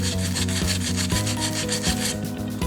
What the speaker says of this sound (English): I'm just going to take some sandpaper and just kind of work at that a little bit